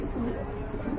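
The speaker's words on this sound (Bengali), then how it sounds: "মাশাআল্লাহ কত বড় কবুতর দেখেন।" Large fancy pigeons kept for sale, including Andalusian-coloured birds, coo in low, throaty murmurs close by, with a steady soft hum of birds in the background.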